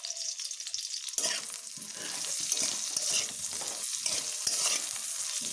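After a quiet second, vegetables with spinach and salt start sizzling in a frying pan, a continuous close hiss broken by irregular stirring scrapes and taps.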